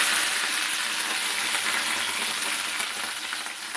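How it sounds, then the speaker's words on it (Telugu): Green chilies and garlic frying in oil for a peanut coriander chutney give off a steady, dense sizzle that stays loud and close without a break. "అంతా కూడా ఈ విధంగా కొంచెం కలర్ మారేంత వరకు వేయించుకోవాలి"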